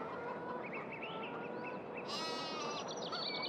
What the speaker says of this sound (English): And then the sheep are doing okay.